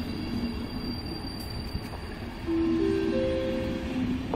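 An EP09 electric locomotive hauls the EC Polonia express out of Warszawa Wschodnia toward Grochów, its wheels squealing sharply on the rails over a loud rolling rumble that swells midway.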